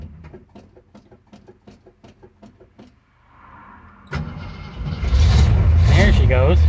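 A 1974 AMC 360 V8, freshly repaired after a head gasket job, cranks in a quick rhythmic burst, pauses, then catches and roars into a loud, steady idle up close.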